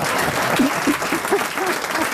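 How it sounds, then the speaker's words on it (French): A French radio-TV studio audience applauds steadily for about two seconds, a dense continuous clatter of clapping with no speech over it. "Vous n'allez pas applaudir ça quand même"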